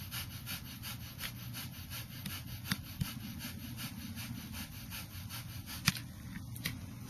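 Rapid, rhythmic Breath of Fire breathing heard with fingers in the ears, a steady muffled pulsing of quick forceful exhalations over a low rumble, faint and continuous with no talking.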